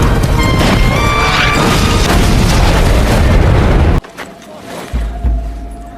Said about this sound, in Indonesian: mereka pun menginjak ranjau yang sudah dipasang semalam, dan ledakan pun terjadi.